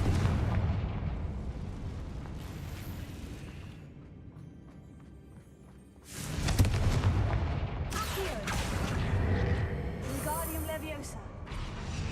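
A Confringo blasting spell exploding in the Hogwarts Legacy video game gives heavy booming blasts with a low rumble, a quieter stretch midway, then a loud burst near six seconds followed by further crackling, rumbling detonations, with speech mixed in.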